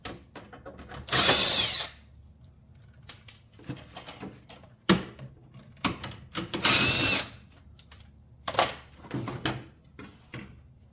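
A power tool zips off underbody panel bolts on a Mercedes E-Class, giving several short whirring, ratcheting bursts separated by quiet gaps, close and fairly loud.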